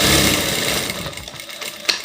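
Sewing machine backstitching the end of a seam on a mesh volleyball-net fabric bag, a steady close whir lasting about a second and a half before it slows and stops, followed by a small click.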